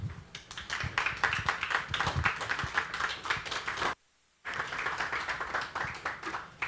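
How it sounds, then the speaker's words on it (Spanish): Audience clapping welcomes a social entrepreneurship financing panel onto the stage at an Impact Days event, steady crowd applause broken by a brief silent gap before resuming. "un aplauso muy grande, por favor"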